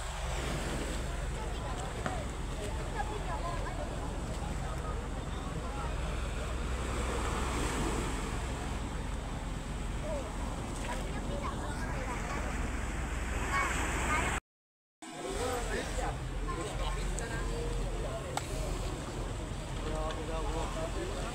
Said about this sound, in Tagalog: Masama ang panahon, may alon.